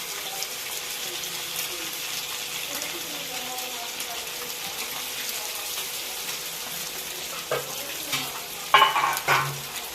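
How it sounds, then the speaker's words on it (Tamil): Fish fries in a pan with a soft, continuous sizzle close by. Near the end a few louder clatters and splashes break through. "மீன் ஃப்ரை பண்ணிடலாங்க."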